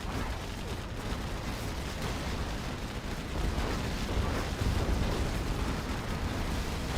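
Rapid artillery barrages and explosions from a Command and Conquer Generals Zero Hour expert free-for-all match, a dense continuous rumble of booms that swells slightly louder in the second half.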